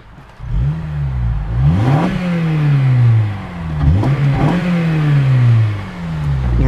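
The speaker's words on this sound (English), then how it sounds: "Very high revving motor." 2008 Honda Civic Si with a K-series engine and limited-slip differential revving hard in a series of sharp blips, each rising quickly and falling back, loud and close with no talking.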